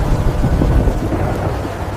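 Storm sound effect of rolling thunder and steady heavy rain, a continuous low rumble with dense rain hiss filling the whole stretch, loud and close, with no voices.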